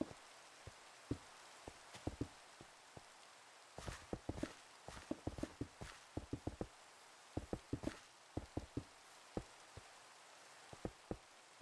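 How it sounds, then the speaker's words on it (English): Rain falls in the video game Minecraft, a faint steady patter with many quick, irregular drip-like ticks spread across the whole stretch. "Looks like the rain is quite quiet."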